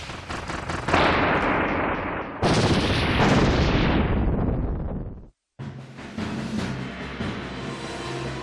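Gunfire in the video game Kirby and the Forgotten Land, loud continuous bursts of rapid shots with booming blasts, broken by a brief silent gap before the firing resumes.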